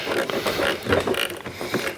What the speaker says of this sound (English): I'm just trying to hold on to it with the pliers using my ratcheting wrench here